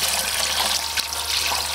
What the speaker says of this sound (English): Water is poured into the pot.